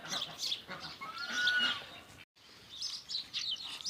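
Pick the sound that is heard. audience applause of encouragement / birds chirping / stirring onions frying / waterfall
birds chirping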